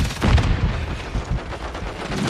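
Stun grenade going off in a first-person shooter deathmatch, a loud booming blast amid ongoing gunfire and rumbling battle noise.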